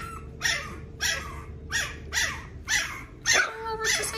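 A dog barks in a steady series of about seven sharp, close barks spaced roughly half a second apart, with a rougher, louder bark near the end; no talk over it.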